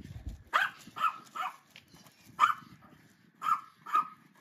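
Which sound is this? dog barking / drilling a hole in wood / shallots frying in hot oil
dog barking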